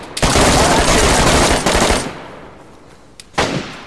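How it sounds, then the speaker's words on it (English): Rapid automatic gunfire in the DayZ survival game, a loud close burst lasting about two seconds, then a quieter pause and one more short loud burst near the end. "Dude, guy shooting. Guy shooting."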